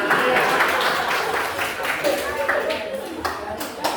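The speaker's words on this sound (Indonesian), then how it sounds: "Oke, tepuk tangan." Classroom applause from students after a presentation, a dense patter of hand claps filling the room with voices mixed in.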